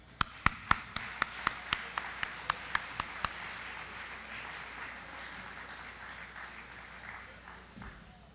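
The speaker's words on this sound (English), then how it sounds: "but she deserves a round of applause as well." Applause at a college hall of fame and senior athlete recognition ceremony: a dozen sharp, evenly spaced claps ring out first, then a softer, scattered round of clapping continues in a reverberant hall.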